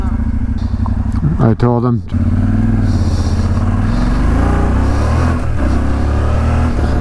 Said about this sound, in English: oh, there's a pickup truck coming.